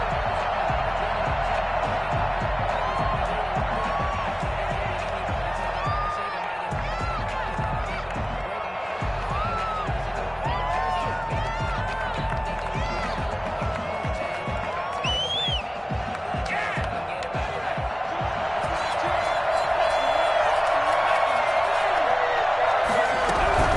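A packed stadium crowd roars continuously before an NFL game between the Houston Texans and Carolina Panthers, a dense wash of cheering and whoops with scattered thumps, an announcer talking over it.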